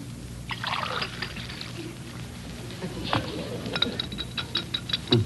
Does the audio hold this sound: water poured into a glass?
yes